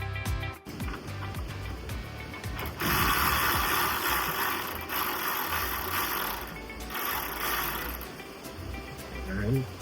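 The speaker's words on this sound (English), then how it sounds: "So we're going to remove the 10 mil first" A 10 mm bolt comes off the hood hinge of a BMW X5 E70, with a steady mechanical ratcheting and whirring of a tool running close by for several seconds, briefly pausing and resuming, and a voice occasionally underneath.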